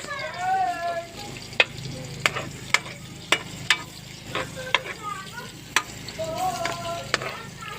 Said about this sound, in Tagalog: akin na magigisa ang sibuyas.